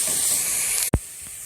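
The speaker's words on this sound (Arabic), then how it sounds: "حطيت بصله مفرومه في الكبه. هبتدي ان انا اقلبها لحد ما لونها يوصل للون الذهبي وتتحمر" Chopped onion sizzling in a pan of ghee and oil, a loud steady hiss that cuts off briefly near the end with a sharp thump before a quieter sizzle resumes.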